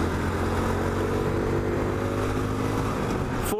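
A Honda CT 125 Hunter Cub motorcycle revs hard on a highway, its small engine a steady, loud, close drone with a buzzing hum as it pulls through the gears under heavy wind rush.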